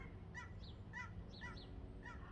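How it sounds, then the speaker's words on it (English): Faint honking calls from a few geese passing overhead, several short cries spread over a couple of seconds against a low background rumble. "we've got geese flying over"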